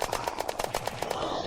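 Rapid automatic fire from a modded gun in the game Unturned, a fast even burst of loud close shots at a steady rhythm, alone without talk.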